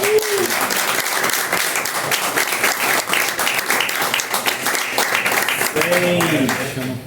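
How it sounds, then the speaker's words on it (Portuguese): A crowd at a Chilean popular unity gathering applauds a comrade in a loud, sustained wash of clapping, with voices calling out over it near the end. "Salva de palmas para a companheira."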